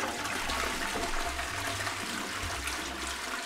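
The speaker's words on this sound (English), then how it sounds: "It's flush time." A toilet flushes with a steady rushing, gurgling water sound, close and moderately loud for the whole stretch.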